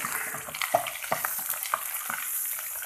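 Garlic sizzles and crackles as it fries in a hot pan, with a steady hiss broken by sharp pops and occasional scraping stirs. It is close and clear, with no talking.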